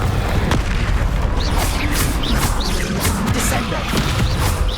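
Repeated Confringo fire spell explosions in the Hogwarts Legacy video game, heavy booming blasts and crackling bursts that come one after another over a dense, constant rumble of in-game combat noise.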